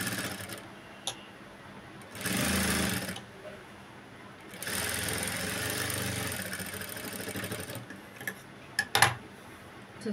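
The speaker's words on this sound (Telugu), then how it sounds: "ఎడ్జ్కి ఒక కుట్టు అనేది వేసుకున్నాము." A sewing machine stitching along the edge of a Punjabi dress top neckline, running in two bursts, a short one and then a longer steady whirr, with quiet pauses and light clicks between.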